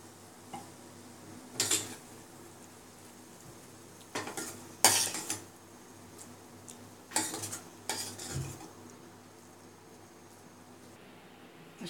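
Metal utensils scrape and clink against a pan while tomato shev bhaji is served out, with several separate bursts of scraping, close and moderately loud, separated by quieter pauses.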